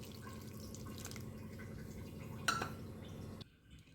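A cup of water is poured into a maida flour mix for Mysore bonda, a steady splashing pour lasting about three seconds that cuts off abruptly, leaving near silence.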